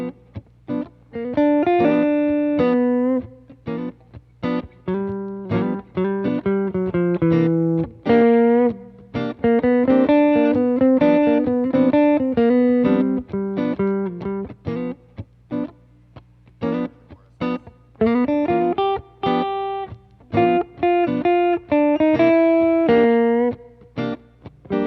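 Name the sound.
guitar solo with chromatic leading notes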